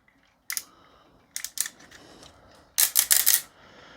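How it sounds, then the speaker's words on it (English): Tight ratcheting joints on a Magic Square MS-02B Dark Lord Transformers Nemesis Prime action figure click in short bursts, a few separate sharp clicks followed by a rapid run of clicks, close and crisp against quiet. "If you can hear the ratchets in there, they are quite tight."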